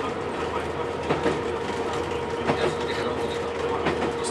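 Train passing on the Joensuu–Ilomantsi railway line, a steady rolling rumble with periodic clickety-clack wheel beats over the rail joints, moderately close and continuous throughout.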